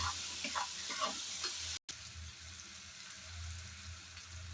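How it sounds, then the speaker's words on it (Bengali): Cumin, coriander, turmeric and chili powder sizzle and crackle in a hot pan with a few stirring scrapes, cut briefly midway, then a softer steady frying hiss. "তো এটাকে একটু ভালো করে ভেজে নেব।"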